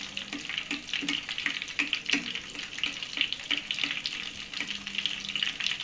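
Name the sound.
apple jalebi frying in oil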